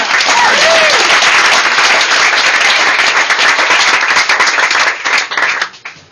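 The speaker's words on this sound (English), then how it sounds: "So another round of applause for all 3 guys that opened up for me tonight." Audience applause for the opening acts at a live music show, loud dense clapping from a crowd, sustained then tapering off at the end, with a brief voice inflection early on.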